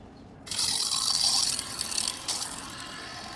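Water starts abruptly and rushes steadily through household plumbing pipes, a hissing flow like pipes filling, settling slightly quieter after a couple of seconds.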